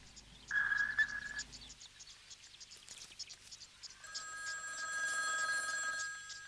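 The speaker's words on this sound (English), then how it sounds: "Can somebody please get the phone?" A telephone bell ringing indoors, with a short trill near the start and a longer sustained ring later, both fairly faint with a few higher chirpy tones in between.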